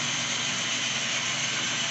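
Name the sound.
SDL39 scale model train engine running on layout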